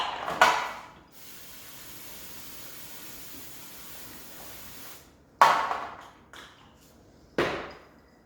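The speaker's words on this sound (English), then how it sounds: "Actually, I'm going to spray it first." Short hissing bursts of cooking spray onto a tray, close up, separated by a longer steady faint hiss and quiet gaps, with no talking.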